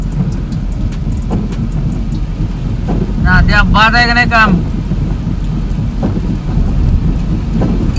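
Steady broadband rain hiss fills the whole clip in Satara, with someone talking briefly over it partway through.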